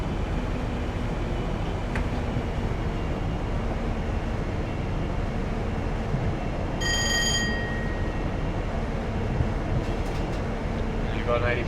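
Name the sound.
train passing in Train Simulator 2020 video game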